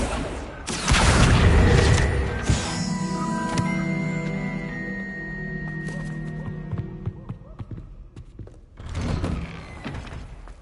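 Confringo spell blast in the Hogwarts Legacy video game, a loud booming burst followed by ringing magical tones that fade out, then a second rumbling impact near the end.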